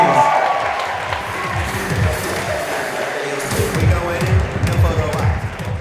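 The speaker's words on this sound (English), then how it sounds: "please, one big round of applause for Jennifer, Lily, and Star" An audience at the Miss Gibraltar 2018 pageant applauds and cheers, a dense wash of clapping that swells again after a short dip, with voices mixed in.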